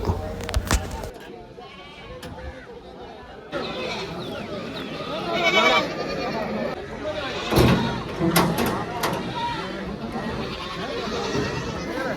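Goats bleating at a busy 28th Mile goat market, calls rising now and then over a steady crowd of voices and people talking nearby.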